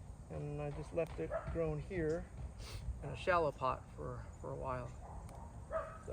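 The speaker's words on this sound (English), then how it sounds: "Sorry for the dogs in the background." Dogs bark and yip repeatedly in the background of a home bonsai-pot setting, sharp bursts scattered throughout while someone talks over them in the foreground.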